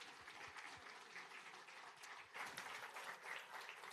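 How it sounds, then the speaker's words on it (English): An audience at a rail passengers' summit fireside chat breaks into steady, sustained applause, heard faintly and at a distance, with no talk over it. "So let's also give her a round of applause."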